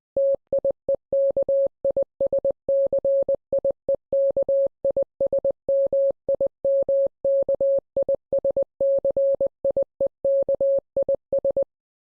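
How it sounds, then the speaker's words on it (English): A steady electronic beep tone from a Morse code translator pulses in short and long bursts, an uneven on-off pattern of dots and dashes repeating for the whole stretch with no other sound. "I typed it into a Morse code translator, and this is the sound I got."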